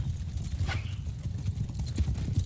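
Cavalry horses galloping in Mount and Blade Bannerlord, a dense rumble of many hooves clip-clopping close and steady, with a brief whinny rising above the thudding mass.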